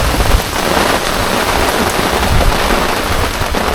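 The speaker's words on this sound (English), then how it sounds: "Wind and rain, here it comes." Heavy rain pours down in a dense, steady roar, with gusty wind noise blending into the constant hiss.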